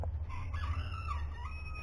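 Chickens in an enclosure crow in a drawn-out call with a few clucks around it, moderately close over a steady low hum and no talking.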